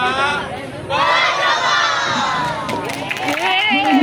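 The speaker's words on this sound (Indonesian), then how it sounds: "tepuk tangan yang meriah sekali lagi untuk pertunjukan dari SMP Negeri 5 Cimahi" At a junior high school theatre performance by SMP Negeri 5 Cimahi, a crowd of students cheers and shouts loudly, many young voices yelling together at close range in a sustained roar.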